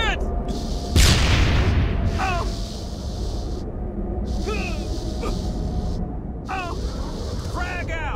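A grenade bursts in a Halo firefight, a single loud boom with a rumbling tail, surrounded by short bursts of gunfire and shouted voices in the background.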